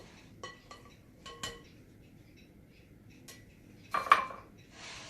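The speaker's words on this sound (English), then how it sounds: "Now I'm going to add my beans to my bowl." Black beans being added to a bowl for a bean and corn salad, with a few faint, close clinks and taps of a spoon on the bowl, ending in a brief louder clatter and rustle.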